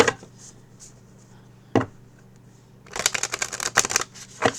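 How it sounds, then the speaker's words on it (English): A deck of rainbow-edged tarot cards being shuffled, starting with a quiet riffle, then one sharp flick, then a dense run of riffling and snapping bursts, close and alone. "Let's get a little bit more shuffle."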